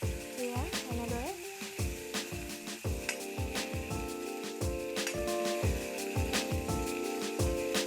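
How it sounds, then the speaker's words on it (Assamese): Boiled chickpeas frying in a pan for a chola bread snack, with a steady sizzle broken by regular scraping stirs of a spoon, over soft background music. "কাবেলি বুট বইল কৰি থৈছিলোঁ সেইখিনি আমি ইয়াত দি দিম এনেদৰে, আৰু এইখিনি আমি ভাজি ল'ম"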